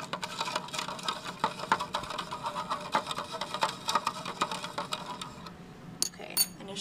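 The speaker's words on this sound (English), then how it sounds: "I give it a stir." A spoon stirs a magnesium sulfate and water solution in a lab container, giving quick, irregular clinks and scrapes that rattle steadily for several seconds before tapering, with a few sharper taps near the end.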